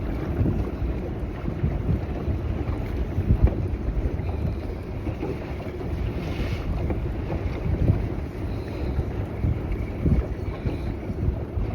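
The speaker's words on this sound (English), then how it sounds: "Oh, that wind's gonna push me." Steady wind noise buffets the microphone on a Utah lake while trolling from a small boat, a continuous broadband rush with water sounds and occasional gusts, no voices.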